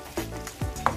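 Vegetables frying in a pan are stirred in short, scraping pushes over a low sizzle, with a few soft knocks of the utensil against the pan, close and brief.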